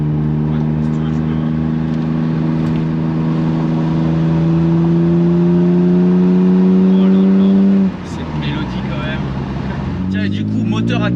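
A BMW with a carbureted six-cylinder engine hums steadily and smoothly from inside the cabin while cruising, then its pitch drops as the car eases off, with faint interior noise.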